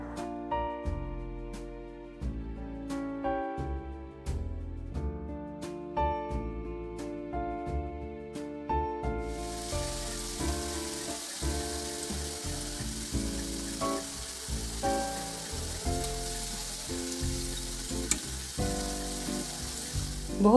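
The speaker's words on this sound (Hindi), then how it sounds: "जब इनका कलर गोल्डन हो जाए तो हम इनको टर्न करके इसको इवनली कुक कर लेंगे।" Palak and aloo pakoras deep frying in oil: a steady, bubbling sizzle begins partway through and continues under music, close and moderately loud.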